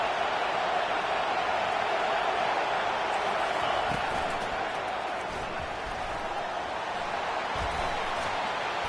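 A dense, steady roar from a football stadium crowd as fans make noise to lift the home defense before a red zone stop against Georgia, broadband and sustained throughout with no pauses.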